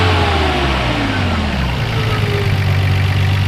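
A 1990 Nissan Skyline GTR twin-turbo engine idles loud and close, then its revs rise in a smooth sweep and settle back to a steady rumble, with no talking.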